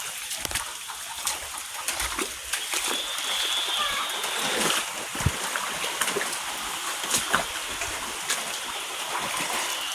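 Water splashes and sloshes as someone wades through deep flood water, with irregular bursts of splashing and birds calling faintly in the background.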